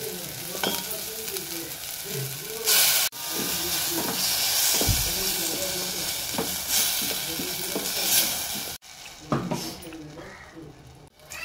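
Cumin and pepper paste goes into a Goan fish curry in the pan, loud sizzling and frying hiss with stirring scrapes, steam bursts and a couple of abrupt cuts, a voice speaking intermittently over it.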